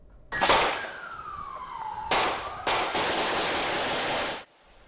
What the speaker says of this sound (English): you could hear the hail of gunfire caught on a camera at a motel parking lot